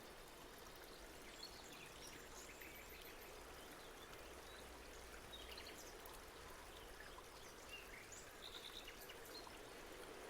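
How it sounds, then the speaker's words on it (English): A soft, continuous trickle of flowing water, faint and distant, steady throughout with no voices. "perhaps there's a faint sound of a stream in the distance"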